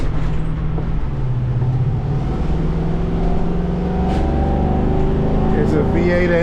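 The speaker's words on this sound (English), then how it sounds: "It's a V8 engine" The V8 engine of a 2023 Jayco Alante 29F lightweight motorhome drones steadily while driving, a loud low rumble with shifting tones under continuous road noise, and someone talks over it throughout.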